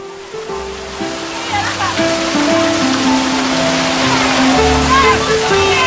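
Water pours from the Sori Sambu village spout in a steady rushing splash that grows louder toward the end, with people talking over it.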